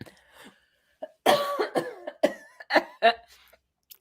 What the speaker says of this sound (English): I do not want to be coughing on screen, but apparently I am